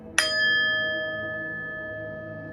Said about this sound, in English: I ring this bell in honor of the sound that creates.